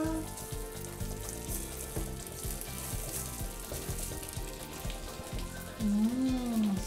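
A burger patty with egg and onion sizzles on a teppanyaki grill, giving a continuous close crackling hiss that runs the whole time beneath a faint tonal background.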